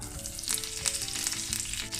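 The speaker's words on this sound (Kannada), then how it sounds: "2 ದಂಡೆ ಒಗ್ಗರಣೆ ಸೊಪ್ಪು ಪಾಡ್ಗ" Two sprigs of curry leaves hit hot ghee with mustard seeds, tempering for Mangalorean prawn sukka. The result is a loud, steady crackling sizzle with scattered sharp pops close by and no voices.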